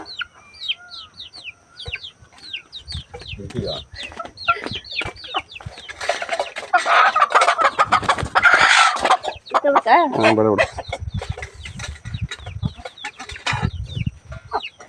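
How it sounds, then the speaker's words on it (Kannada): A hen clucks and squawks close by in repeated bursts, growing louder and more agitated in the middle. Other farmyard chatter and faint voices can be heard around it. "ಇವಾಗ ಇದ್ದಿದ್ದು ಕೋಳಿ ನಮ್ಮ ಸಿಸ್ಟರ್ದು"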